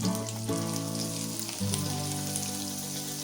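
Cut bitter gourd pieces fry in oil for a Bengali shukto, producing a rain-like patter of steady crackling sizzle that continues evenly under a soft tonal backdrop.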